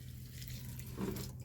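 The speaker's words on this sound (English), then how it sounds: "I do have my watering can, and I'm going to go ahead and water these in" A watering can pours water over dry, freshly sown seeds in a garden bed, a soft continuous trickle that briefly grows heavier near the end.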